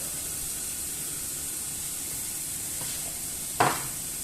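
Chicken liver with tomatoes, pomegranate molasses and salt stirred in a hot pan: a steady low sizzle runs throughout, then one short, louder scrape of the spoon near the end.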